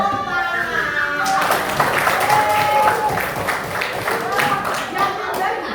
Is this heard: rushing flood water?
no